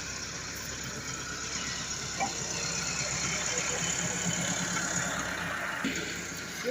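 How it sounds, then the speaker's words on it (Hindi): Tractor engine idling at a farm homestead during hot weather, a steady mid-range rumble running throughout under nearby talk and background activity. "और ये ट्रैक्टर पे आ गए हैं"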